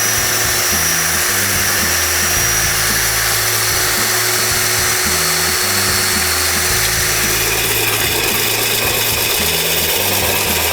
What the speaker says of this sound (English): Okay, so we sanded the bottom,